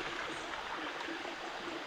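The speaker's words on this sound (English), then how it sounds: "I'm somewhere here at the river" A river flowing steadily near an African village in late afternoon, a continuous soft wash of rushing water with no distinct splashes, fairly faint and heard alone.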